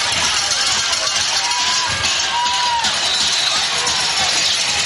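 A loud crowd at a high school football game, Good Hope vs. West Point, roars and cheers continuously at close range, a dense wash of voices throughout.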